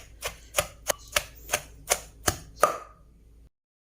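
Fresh chilli and salt pounded in a mortar for a chilli fermented fish dipping sauce, eight sharp evenly spaced thuds, close and clear, then silence.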